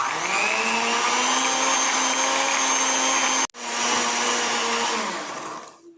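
A handheld electric mixer whirs steadily through thick, heavy cheesecake batter for a Mexican-style pay de queso, a close, continuous motor drone that cuts out briefly midway, restarts, and then winds down at the end.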